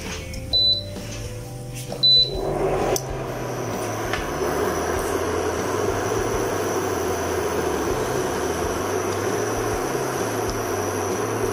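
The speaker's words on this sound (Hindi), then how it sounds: "और अपना स्टोव ऑन करेंगे।" A gas stove is switched on: two quick beeps, then the burner lights and settles into a steady broadband hiss and roar that continues alone, with a low background hum.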